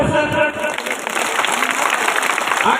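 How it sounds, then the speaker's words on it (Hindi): A crowd at a political speech in Nepal claps loudly and steadily, with voices mixed into the applause. "ताली बजाओ जोर से"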